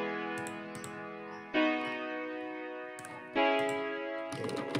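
A synth pad preset from a Citrus plugin plays sustained chords that change roughly every second and a half, with light ticking clicks on top, soft and steady without any voice.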